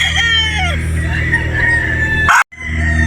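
A straight comb broodstag crows close by in one drawn-out, strained call that cuts off abruptly, followed by a brief clatter.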